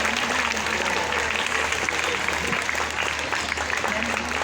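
Parents in an audience clap for a student demonstration at a school event, a dense, continuous round of applause filling the hall at a fairly loud level.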